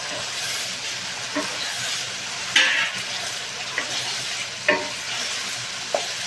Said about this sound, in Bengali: মশলা দিয়ে তেলও বেরোতে শুরু করেছে। এখন আলুগুলো দিয়ে দেব।